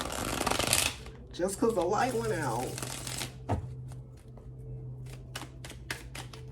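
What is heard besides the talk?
shuffling tarot cards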